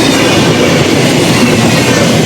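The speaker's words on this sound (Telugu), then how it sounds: "మనమైతే ఒక ట్రైన్ని పాస్ చేస్తున్నాం" MEMU train passing the Gautami train, a short, loud, dense rush of rumbling wheels and rattling carriages heard close up from on board.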